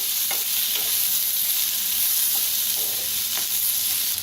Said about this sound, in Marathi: आता कांदा थोडासा हलकासा भाजत आलाय, तेल ओतून भाजूया।